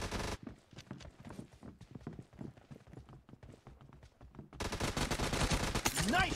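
Rapid gunfire from a Gun-game video game team match, sharp shots in quick bursts through the first few seconds, then giving way to a louder, denser wash of game noise and effects.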